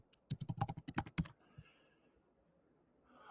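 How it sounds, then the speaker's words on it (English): A search is typed on a computer keyboard as a quick run of about a dozen close, crisp key clicks over a second or so. One last tap follows after a pause, then quiet. "And let me just type in accelerate marketing."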